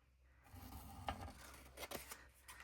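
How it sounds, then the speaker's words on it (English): Scissors snipping a strip of white off vintage paper ephemera, with a couple of close, crisp cuts and soft paper rustle in a quiet room. "actually I'm going to cut that off there"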